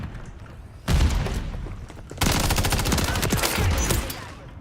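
Gunfire in Call of Duty Modern Warfare 3 starts as scattered shots, then becomes loud bursts of rapid automatic fire with booming impacts that continue to the end.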